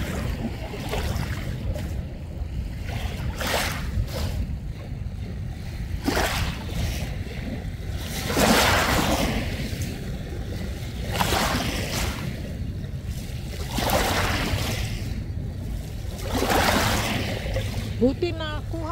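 Surf on a shore, with surges of breaking water rolling in at intervals every few seconds over a steady low rumble, while a person talks nearby.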